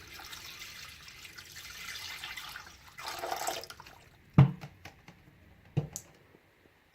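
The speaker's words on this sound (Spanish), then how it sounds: "Agregamos agua helada a la pecera." Ice water is poured into a fish tank in a temperature-control setup, giving a soft splashing rush for a few seconds, followed by a handful of sharp drips and knocks that trail off into quiet.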